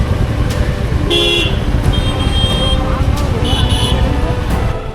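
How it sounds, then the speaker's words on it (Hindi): Busy road traffic after school lets out, engines rumbling steadily with several short car and motorbike horn toots sounding repeatedly, close by, under a person talking. "स्कूल की छुट्टी हो गई तो थोड़ा ट्रैफिक मिलेगा यहाँ पे।"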